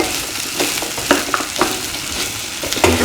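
Plantain pieces with cream are sautéed and mixed in a pan, a loud close sizzle with irregular scraping stirs and light clanks of the spatula, no one speaking.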